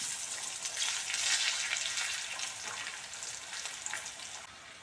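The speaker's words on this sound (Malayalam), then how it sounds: "നന്നായി പൊരിഞ്ഞ് വരുന്നുണ്ടല്ലേ" Jackfruit seed snacks with curry leaves frying in hot oil, a steady bright crackling sizzle that rises and falls slightly, close and continuous with no talking.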